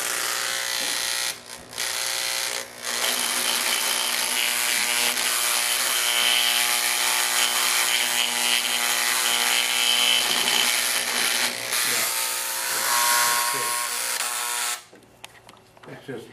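A carbide texturing bit grinds into soft wood with a steady high buzzing whine that tears and digs at the surface, cutting out briefly twice and stopping near the end, with a voice talking over it.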